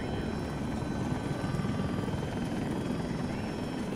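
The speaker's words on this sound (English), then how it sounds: "Got an attack chopper." Attack helicopter in the video game Battlefield 2042, a loud continuous rotor thrum and engine roar held steady throughout with no speech.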